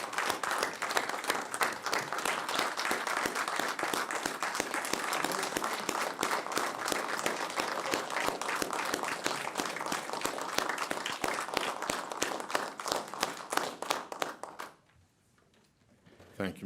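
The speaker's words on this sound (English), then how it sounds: "So I think we owe Mr. Corbett a great round of applause." Steady, sustained clapping fills a county board meeting room as members applaud a newly named judge, many hands beating evenly for about fifteen seconds before cutting off abruptly into near silence.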